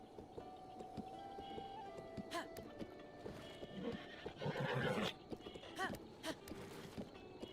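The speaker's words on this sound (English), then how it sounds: "Relax, horsey, relax." A horse in the video game Zelda Breath of the Wild whinnies several times among clip-clopping hooves, faint and fairly close, with a voice speaking softly nearby.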